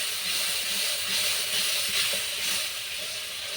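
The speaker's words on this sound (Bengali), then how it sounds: "সামান্য পরিমাণে একটু জল দিয়ে দিলাম এই মশলাটা আমি ভালো করে নাড়িয়ে নিব" Fish curry masala with a little added water simmering in a pan, a steady close hiss and bubbling sizzle running unbroken throughout with no talking.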